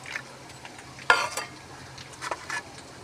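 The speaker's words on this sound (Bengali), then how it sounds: "মশলাটা অল্প জল দিয়ে গুলে নিচ্ছি।" Spice mix is stirred with a little water in a bowl, giving a sharp clink followed by scattered scraping and stirring sounds over a faint frying hiss in the background.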